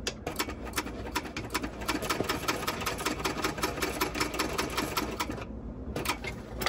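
A domestic sewing machine runs basting stitches at the longest stitch length, sewing back and forth on bag fabric, a rapid close mechanical clatter that pauses briefly near the end before starting again.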